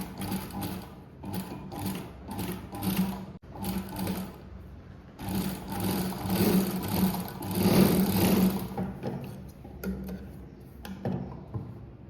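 A sewing machine double-stitches a velvet blouse in short, stop-start bursts of rapid clattering, close and moderately loud, with quiet gaps between runs and no talk.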